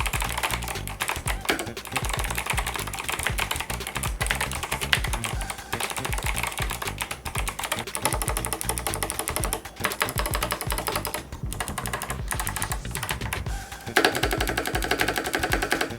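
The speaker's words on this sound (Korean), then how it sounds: "타이핑을 해보면 청축까지는 아니고 그렇지만 가볍게 짤깍거리는 그런 느낌이라고" Rapid, steady typing on an 8BitDo C64 mechanical keyboard fitted with Kailh Box White V2 switches, giving a dense run of light, crisp clicks up close with only brief pauses.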